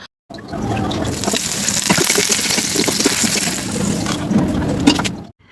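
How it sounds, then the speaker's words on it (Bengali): Dried and green chillies frying in hot mustard oil, giving a loud, dense crackling sizzle with sharp pops. It starts abruptly, holds steady for about five seconds and then cuts off. "সর্ষের তেলের মধ্যে শুকনো লঙ্কা আর কাঁচা লঙ্কা ভেজে নিলাম।"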